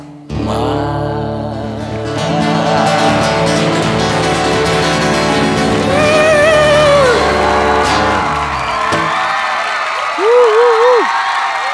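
Audience applause and cheering for a singer on a televised singing competition stage, loud and sustained beneath the final music and sung notes, with a whoop and a voice near the end.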